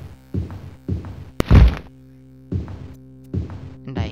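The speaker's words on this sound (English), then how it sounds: "And I hear more thudding of a homunculus" Dull thuds from a homunculus in a video game, heard as short muffled bursts at a slow, irregular pace over a steady low hum, with one sharper, louder thump in the middle.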